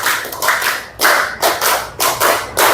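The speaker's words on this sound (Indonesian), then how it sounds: "Tepuk 5 kali" A class of students claps together in a set rhythmic pattern, loud and close, with short gaps between the groups of claps and no talk.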